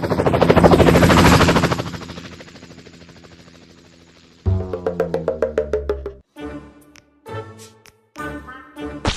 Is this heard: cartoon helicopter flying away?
yes